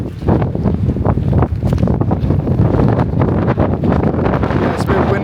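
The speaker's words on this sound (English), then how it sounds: "Yeah, it's a bit windy." Strong wind buffets the microphone outdoors on a Spanish road trip, a loud continuous low rumble with gusty flutter throughout, with a voice partly buried underneath.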